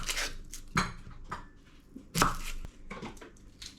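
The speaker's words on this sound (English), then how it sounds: "we're gonna chop up the onion" A knife chops an onion on a cutting board for potato salad, giving several sharp, close knocks at an irregular pace with softer slicing sounds between them.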